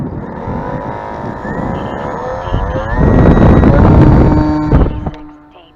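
Model airplane engine revving up for takeoff into the wind, a loud buzzing drone that rises in pitch and intensity as it climbs, with wind buffeting the microphone before it fades off at the end.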